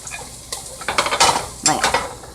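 Onions are stirred in a hot skillet, with short scraping swirls and bursts of crackling sizzle in quick succession. The sound is up close, with no voices.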